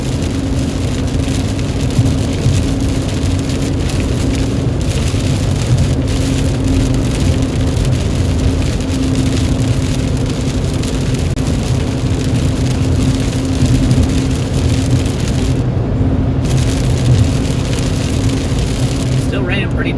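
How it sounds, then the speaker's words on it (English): Heavy rain falls steadily and loudly during a storm in Frisco, a dense unbroken hiss close by, with traffic noise underneath and a voice talking. "Still raining pretty decent here in Frisco."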